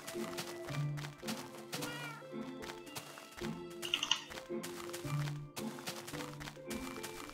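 A cat meows in the Minecraft video game, a couple of short mewing calls heard against game music and ambient sound, with no talking.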